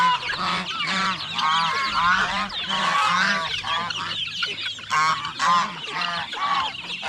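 Loud, continuous gobbling and honking calls from several young turkeys at once, close up, overlapping in rapid bursts.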